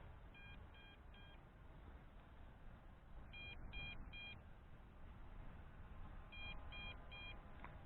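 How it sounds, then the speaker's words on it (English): A JJRC X8 GPS 5G WiFi FPV brushless quadcopter's controller sounds its low battery alarm in three bursts, each a quick triple of high electronic beeps, repeating at steady intervals over a constant low background rumble. "Okay, now I'm getting an alarm."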